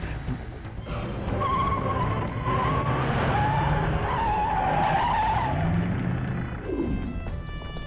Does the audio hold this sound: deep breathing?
no